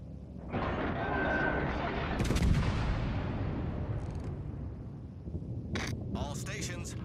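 The battleship Mutsu fires its big guns in World of Warships, a deep booming salvo that rolls on and fades, followed by sharper bursts of gunfire, while a voice speaks over the action.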